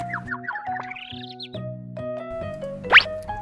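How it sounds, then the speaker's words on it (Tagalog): A bird outdoors chirps and tweets in a quick series of bright, rising calls, ending in a sharp louder note; a low steady hum runs underneath. "Anong kulay ng ibon sa labas?"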